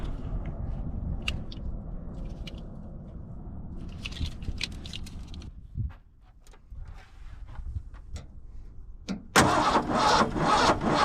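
A truck engine with a suspected fuel line leak runs with a rough, steady low rumble, then cuts out and falls quiet before a harsh burst of noise near the end.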